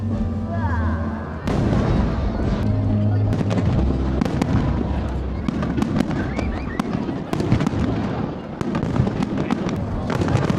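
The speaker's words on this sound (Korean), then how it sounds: "마지막 폭죽입니다." Fireworks exploding in rapid succession at a Japanese summer festival, sharp cracks and booming bursts crowding together, with a crowd murmuring and talking underneath.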